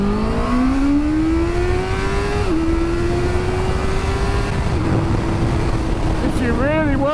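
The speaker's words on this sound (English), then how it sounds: "I think it's definitely an engine you're going to have to rev if you want to get the best out of it." A Honda CBR650R inline-four motorcycle with a 12,000 RPM redline climbs steadily through the revs, loud under heavy wind rush, with a brief shift dip before the note rises again.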